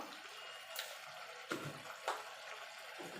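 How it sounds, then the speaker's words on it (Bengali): Hot water is poured into chicken cooking in a pan, a faint, low-level wash of liquid with three brief splashy surges. "এখানে গরম জল দিয়ে দেবো"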